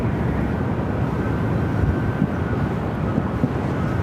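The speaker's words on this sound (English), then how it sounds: "All right, so that Dreamliner now heading to the north side, underneath that SkyTrain bridge." A Boeing 787 Dreamliner taxis at Phoenix Sky Harbor airport near the SkyTrain bridge, its engines a steady, broad rumble and whine that holds loud and unbroken throughout, with a faint tone running underneath.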